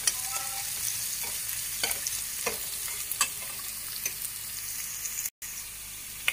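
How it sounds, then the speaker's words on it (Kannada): Onions frying in a pan give a soft, steady sizzle with scattered stirring scrapes and clicks, fairly quiet, with a brief dropout near the end. "ಈರುಳ್ಳಿ ಸ್ವಲ್ಪ ಫ್ರೈ ಆಗಿದೆ"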